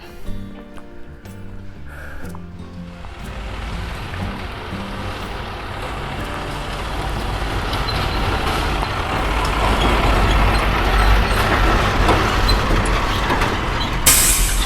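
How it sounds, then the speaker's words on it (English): A big logging truck rumbles past on a forest road, its heavy engine noise building steadily from a low drone to a loud, close roar with a hiss near the end. "we passed that big truck. He was going out as we were coming in. He was hauling logs."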